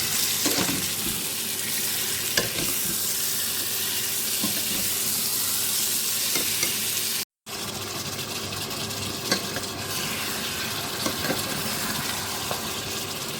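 Steady broadband sizzling hiss of marinated mutton frying in a pan, with occasional soft scraping clicks from stirring, continuous and fairly loud, briefly cutting out midway.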